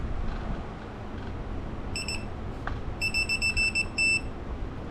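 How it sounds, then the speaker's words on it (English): An electronic torque wrench on a 2015 Kia Sedona rear wheel bearing job gives a short high beep, then a quick run of repeated beeps and a longer final tone as it reaches the set torque, over faint background noise. "Wait till we get that good beep for the torque."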